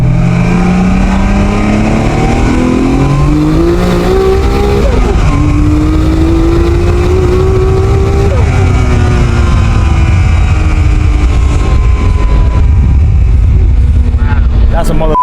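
The race engine of a TopSecret Toyota Supra revving loudly and close, its pitch climbing through repeated pulls and dropping between shifts, with people talking over the roar.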